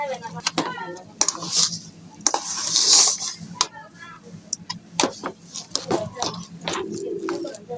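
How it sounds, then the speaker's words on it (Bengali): Semolina and sugar stirred together in a pan, with a utensil scraping and clinking against the metal in irregular bursts while a person talks over it. "চিনিটাও সুজির সাথে মিশিয়ে নেব"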